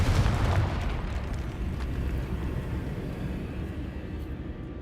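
A Confringo explosive spell in Hogwarts Legacy bursts with a deep, rumbling boom at the start, then a long, loud roaring decay that slowly fades over several seconds.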